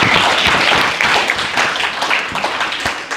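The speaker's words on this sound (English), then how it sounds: "give them a round of applause" Audience applause for senior participants at a youth speech competition, a dense steady wash of clapping across the whole stretch, fairly loud with a few sharper individual claps standing out.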